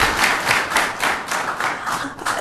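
An audience at a city council meeting breaks into sustained, dense clapping, loud and close throughout, with no voices heard over it.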